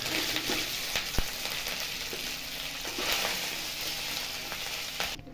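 Idli pieces for masala idli fry in a kadai of oil, a dense continuous sizzle with occasional clicks of a stirring spoon, fading out at the very end.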